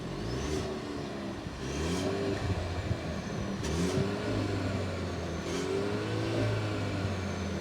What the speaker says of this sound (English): we'll be revving it a bit from the outside